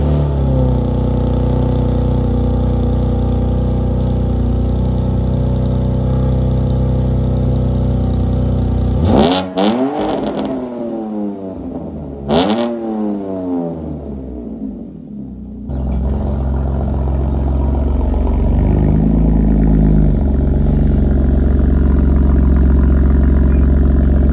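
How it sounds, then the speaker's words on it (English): Engine of a BMW M4 on a drive, a steady loud rumble with sharp revving bursts as it shifts through gears mid-clip, then settling back into a constant drone; no talking. "This is in fact the last drive for the M4."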